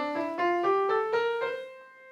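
An instrument plays a Mixolydian mode scale as six or seven clear, evenly spaced rising notes, close and moderately soft, with a final note that rings out alone.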